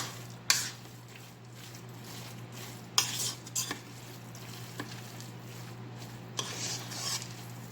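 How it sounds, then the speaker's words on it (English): A deviled crab mixture gets stirred in a pan, a low steady hum underneath with a few sharp utensil clinks and scrapes spaced out, fairly quiet overall. "Just another good stir here."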